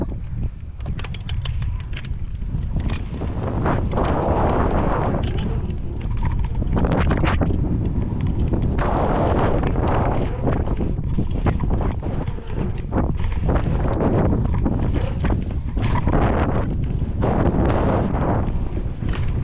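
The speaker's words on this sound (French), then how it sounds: "J'ai pris une petite rafale de vent là." Heavy, continuous wind buffeting batters the microphone outdoors at a pumptrack, a loud rumbling roar that surges and dips throughout with no clear talking.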